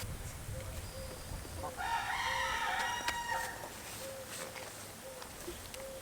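A rooster crows once at mid-distance from around the coop where Rhode Island hens are kept, and soft clucks and a faint repeated chirp sit over a low outdoor background.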